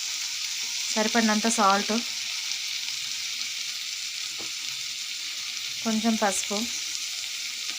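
Tomatoes fry with onions and green chillies in a pan for a Telugu punugula pulusu, a steady, close sizzle running throughout beneath two short bursts of someone talking.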